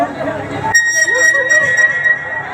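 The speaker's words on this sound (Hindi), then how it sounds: "काजल को तो साउंडे वाला सीटी मार रहा है।" A sharp whistle from a sound operator at a crowded outdoor Bhojpuri stage show, piercing and sustained over a busy hubbub of voices.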